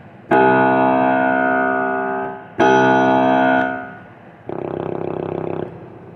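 Three sustained deep organ tones from a Korg Kross 88 digital piano simulating an old organ's 16-foot stop, each held about two seconds with a rich stack of harmonics, the last one thinner and buzzier, no voices.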